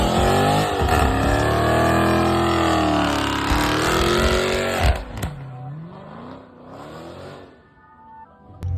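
A 2019-or-later Dodge Challenger Scat Pack doing a line lock burnout, its V8 held at a loud, wavering high rev for several seconds before dropping away, then rising again in shorter, quieter surges.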